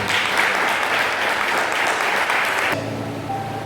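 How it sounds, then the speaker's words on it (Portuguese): A church congregation breaks into steady applause during a sermon, a dense wash of clapping that cuts off abruptly near the end, leaving a quiet room tone. "Aplauda a unção do Senhor Jesus"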